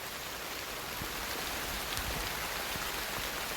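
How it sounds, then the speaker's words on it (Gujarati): Evening rain falls steadily in a tribal village, making a dense, even hiss of drops on surfaces with a few closer patters. It carries on unbroken, and no one speaks. "વરસાદ પણ ચાલુ થઈ ગયો છે સાંજના ટાઈમે જોઈ શકો છો અવાજ પણ તમે સાંભળી શકતા હશો"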